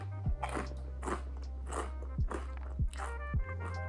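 Crisp, close crunches of someone biting dark rye crackers with hummus, several distinct bites spaced about a second apart with chewing between, over a steady low hum.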